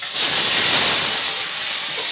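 Prawns hitting hot mustard oil in a wok give a loud steady sizzling hiss that swells at once and holds for a couple of seconds, close and with no talk.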